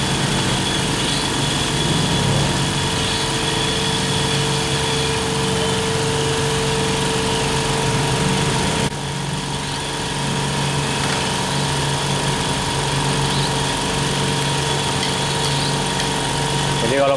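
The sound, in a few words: two oil-less air compressors combined, running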